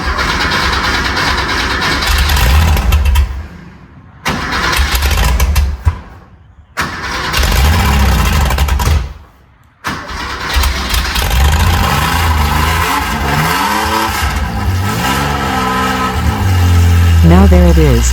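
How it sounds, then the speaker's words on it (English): A Porsche 911 Widowmaker cold-starting up close, several loud bursts of engine noise separated by short silences, then a rough idle with rising and falling revs; a voice talks over it. "Can we get a cold start? I want to hear that Porsche power."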